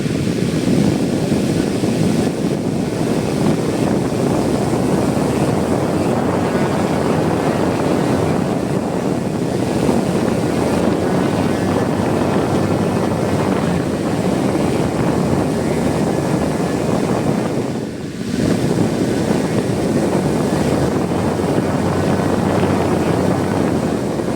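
A high-RPM DC motor spins a drone propeller, giving a loud, steady whirring roar with dense airy noise that holds almost unbroken for over twenty seconds, briefly dipping once near the end.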